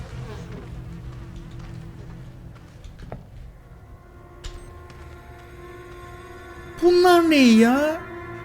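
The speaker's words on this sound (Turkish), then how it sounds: "Sinekleri kovalıyormuşum." Flies buzzing in the horror game Outlast 2, a faint drone at first, then a loud, close, wavering insect whine swooping in pitch near the end; human gasps and breathy sounds are also present.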